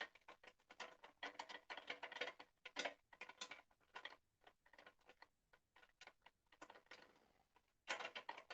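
A fastener being screwed in while assembling a Simlab GT1 EVO sim rig, heard as rapid, faint ratcheting clicks in bursts with short pauses between them.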